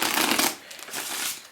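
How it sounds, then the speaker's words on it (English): A deck of playing cards given an overhand shuffle makes a burst of quick papery riffling and flapping, then a short pause and a second softer run of card noise, close and clear with no talking. "and given an overhand shuffle like that, and then given a cut like that."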